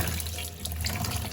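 Water running from a tap into a sink, a steady close rushing flow with no voices over it.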